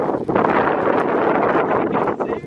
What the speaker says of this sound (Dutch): het waait ook heel hard